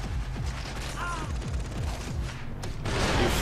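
Gunfire during a vehicle chase in Far Cry 3, scattered shots over a constant engine drone and rushing noise, with a sharper crack and rising roar toward the end.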